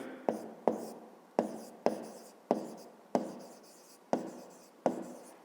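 Pen strokes on paper while writing out a pentagon's perimeter for a fifth-grade maths exercise, a series of about eight sharp taps each trailing into a short scratch, close and steady with no talk.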